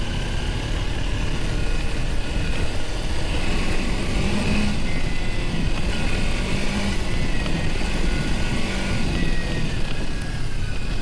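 A motorcycle runs continuously for about eleven seconds, a loud, steady engine drone with broad rumble up close, with no clear rise and fall of revving.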